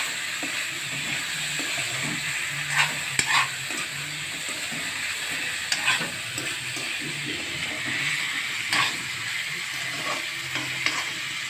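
Chili powder frying in a pan while pork curry cooks, giving a steady soft sizzle with occasional stirring scrapes and clicks, close and continuous without talk.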